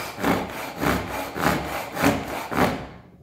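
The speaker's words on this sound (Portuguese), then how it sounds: "eu entro com o serrote" A hand saw rasps through wood in steady back-and-forth strokes, about six rhythmic pulls, close and fairly loud, fading at the end, making an angled cut for a small wooden box.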